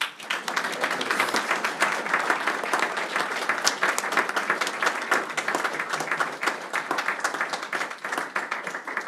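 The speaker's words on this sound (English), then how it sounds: "if I could get a round of applause for Christy" Sustained applause for a retiring colleague fills a board meeting room, dense clapping steady and close throughout without a break.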